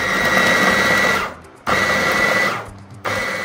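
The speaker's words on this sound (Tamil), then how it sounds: "ஸோ நான் ஒரு வெங்காயத்தை கட் பண்ணி போகிறேன்." Electric 6-in-1 chopper whirring loudly as it chops an onion, running in two long steady bursts, each winding down briefly before the next.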